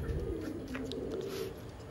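A Kalanka female pigeon coos softly close by in a quiet setting, giving a low, rolling coo that lasts most of the moment.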